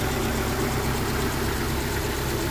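A Rover P6 engine idles close by with a steady, dense, unbroken rumble that fills the short stretch at constant loudness.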